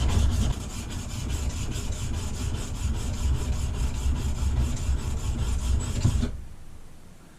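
A steel chisel blade's back rubbed flat on an abrasive surface, producing a steady, close rasping scrape in even back-and-forth strokes that stops abruptly near the end.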